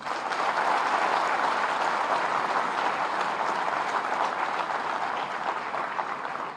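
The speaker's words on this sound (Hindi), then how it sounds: "महाराज जी के लिए एक जोरदार तालियां।" Sustained applause from a large audience at the inauguration of a blood centre and dialysis centre in Gorakhpur, dense steady clapping holding at full level throughout before easing slightly at the end.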